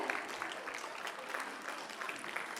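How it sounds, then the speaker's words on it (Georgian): Faint, distant audience applause for the young performer Tekle, a soft continuous patter of many hands clapping that holds steady throughout. "ტაშით გავიცლოთ"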